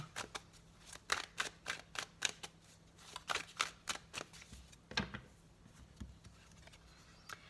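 Oracle cards shuffled by hand at close range, a quick run of crisp riffling bursts in an uneven rhythm with a brief pause, then a last few softer flicks, over a faint low hum.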